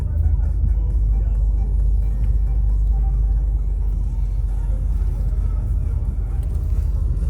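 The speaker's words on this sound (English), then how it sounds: "We're in the car on the way to the airport." Car on the road to the airport in New York, a constant low interior rumble of engine and tyres, steady and fairly loud throughout with no talk.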